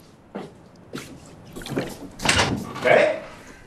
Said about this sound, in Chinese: 你大半夜的跑我们家砸门